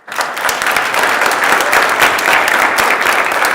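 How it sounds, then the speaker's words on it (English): Applause fills the Senate chamber during a floor session, a steady dense wash of many hands clapping that starts abruptly and holds evenly loud throughout, with no voices over it. "So if you could give them a quick round of applause."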